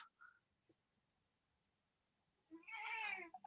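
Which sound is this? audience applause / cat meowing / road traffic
cat meowing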